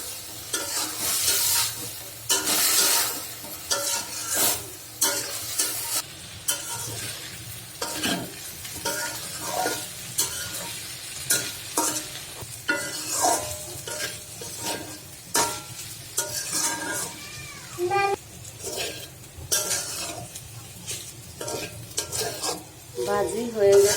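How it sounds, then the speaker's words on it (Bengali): Vegetable bhaji with green chilli, salt and turmeric fries in a pan, sizzling continuously under repeated scraping and stirring strokes of a spatula against the metal. "এবার ভাজি হতে থাকবে।"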